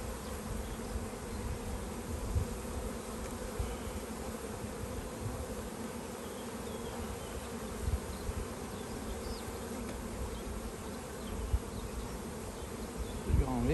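Honeybees buzz steadily around an open hive during a spring inspection, a dense, even drone close by with no talk, broken only by a few soft knocks.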